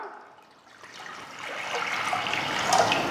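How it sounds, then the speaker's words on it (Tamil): Water pours steadily into a cooking pot for boiling yam, a continuous splashing rush that grows louder and fuller as the pot fills, close by. "தேவையான அளவுக்கு தண்ணி ஊற்றிக்கலாம்"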